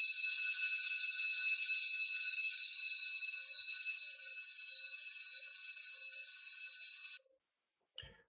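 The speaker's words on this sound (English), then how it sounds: "So we've rung the school bell." An electronic school bell rings as a steady, bright tone for about seven seconds, then cuts off abruptly and leaves silence.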